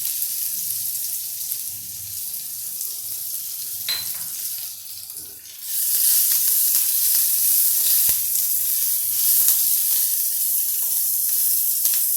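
Onion dropped into a hot pan with urad dal on lowered heat, a steady broadband sizzle that swells loudly partway through and holds, with scattered clicks and scrapes nearby.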